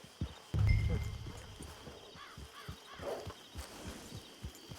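Horse hooves clip-clop at a steady walking pace in Red Dead Redemption 2, a regular rhythm of soft thuds near the listener, with a brief louder rumble early on and faint ambient game sound behind.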